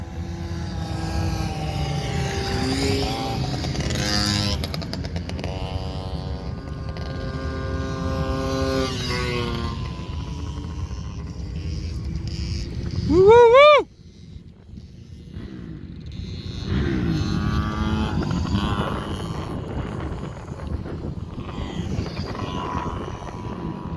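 A flat track motorcycle accelerates around a dirt track, its engine revving and climbing in pitch through the gears, loud and fairly close. It surges to a sharp peak and cuts off, then a steady engine drone returns.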